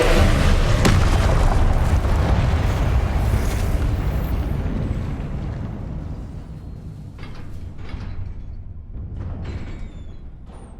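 Confringo spell explosions in the video game Hogwarts Legacy make a heavy booming blast that rolls into a long rumbling decay, loud and close, followed by lighter crackles and pops as it fades.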